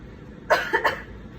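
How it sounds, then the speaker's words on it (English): A single deep cough, close and loud, a short burst followed by two quicker follow-up coughs, then quiet. "can you give me a really good deep breath and then a good cough?"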